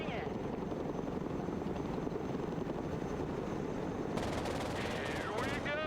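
Chinook heavy transport helicopter in the real-time strategy game Broken Arrow, a steady dense rotor drone running throughout with bursts of gunfire and faint game voices layered on top near the end.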